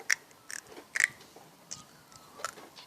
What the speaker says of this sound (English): Are you chewing on sand right now? No. I think I can hear that crunch.